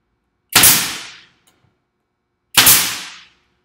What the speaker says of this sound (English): I just shoot one nail just to for it not to be flying around while I'm working on it